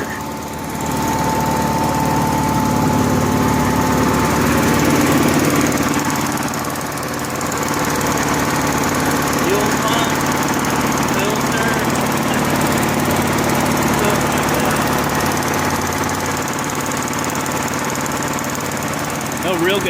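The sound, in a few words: Honda gas-powered welder generator engine running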